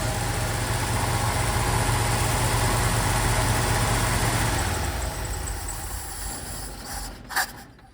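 1970 GMC 1-ton truck engine, a close, rough, steady rumble that eases down toward idle and softens, ending with a brief clunk.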